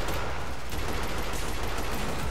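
Sustained rapid gunfire from the video game Killing Floor, dense and loud across the whole stretch with no pauses or talk.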